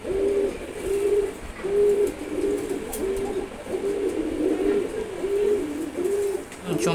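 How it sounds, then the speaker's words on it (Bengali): A pair of Silver Gorra pigeons coos close by in a steady, repeating rhythm of soft low calls, each lasting under a second, with no talk over them. "চমৎকার দেখতে, খুবই সুন্দর কবুতর।"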